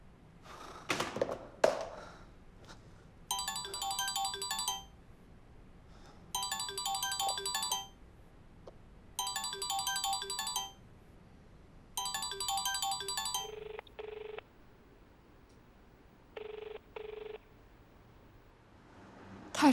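A phone rings unanswered in a Singapore TV drama scene: four evenly spaced, bright electronic ring bursts, each lasting a couple of seconds, followed by a few shorter, softer tones, with no speech.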